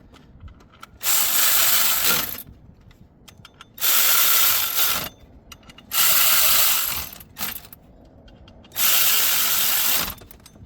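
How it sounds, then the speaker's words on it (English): A ratchet drives the water pump bolts on a 2015 Ford F150 3.5L in four long, loud mechanical bursts with a brief extra burst between them, separated by short quiet pauses. "We'll switch to the ratchet to speed up the process."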